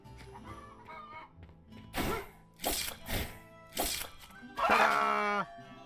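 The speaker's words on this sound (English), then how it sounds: "Come here, chicken." Chickens in Noble Legacy cluck and squawk in a run of loud, sharp bursts, about five separate calls over a soft background of game music and ambience.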